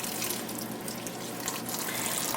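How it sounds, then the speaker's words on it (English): Water runs steadily from a kitchen tap for rinsing cabbage, a constant close splashing hiss with no pauses. "Now we're going to turn some water on."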